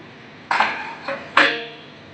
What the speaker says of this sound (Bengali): এবারে আমরা ঢাকনাটা খুলে দেখে নেব যে বড়িগুলো একটু সেদ্ধ হয়ে নরম হয়েছে কিনা